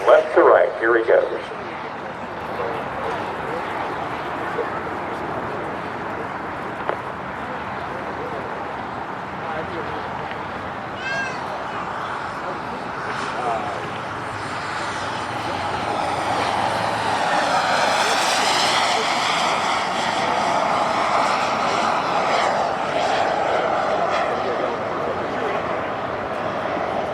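A model jet aircraft at an RC jet meet in Quakertown streaks past with a loud turbine whine that rises, peaks and fades over nearly half a minute, while spectators talk nearby.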